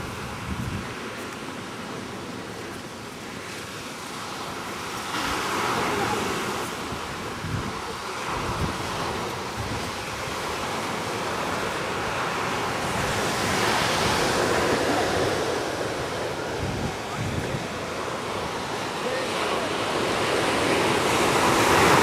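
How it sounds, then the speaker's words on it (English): Sea waves at the beach at Agnes Waters in Australia roll in with a steady, loud surf wash that swells over time, buffeted by wind noise on the microphone, with no talk. "And here's the sea."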